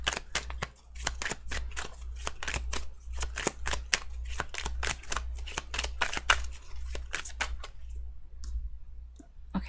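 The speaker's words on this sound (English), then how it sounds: "it's hard for me to talk and shuffle at the same time" Tarot cards shuffled by hand, a dense run of crisp riffling clicks and snaps in quick irregular bursts, close and fairly quiet over a low steady hum.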